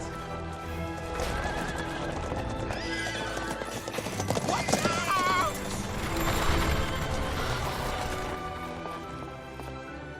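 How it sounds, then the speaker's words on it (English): A horse neighs and whinnies over clip-clopping hooves in a film scene set outside a palace, loud and close and mixed with music, with a sharp whinny rising in the middle. "Captain, my horse."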